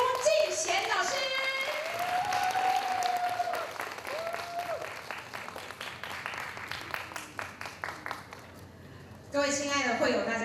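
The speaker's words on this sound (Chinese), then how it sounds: "伸出你们的双手，借用你们热情的掌声，让我们欢迎我们的嘟嘟老师" A hall audience at a Chinese-language education conference claps steadily to welcome a teacher, the applause rising and swelling loudly near the end while a host's amplified voice speaks over the first seconds.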